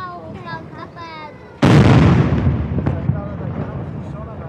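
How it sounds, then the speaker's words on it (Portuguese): One of four Brazilian Army artillery pieces fires a salute shot at a Sergeants' School ceremony: a single sharp, loud blast that follows talking voices and trails into a long rumbling decay. "As peças de artilharia, são 4 peças de artilharia que está ali"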